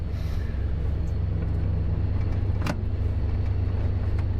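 An abandoned Chrysler car being driven on the road, with a steady, loud low engine and road rumble throughout and one brief sharp click near the middle.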